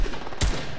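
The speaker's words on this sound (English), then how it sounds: "I have a tactical assault rifle" Tactical assault rifle fire in a video game, with two loud, sharp bursts cutting through a steady background of game ambience.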